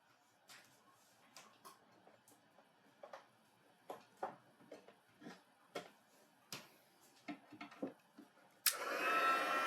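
A heat tool switches on near the end, blowing a loud, steady rush of hot air over embossing powder on a Christmas box-in-a-card project, after a stretch of quiet crafting clicks and taps.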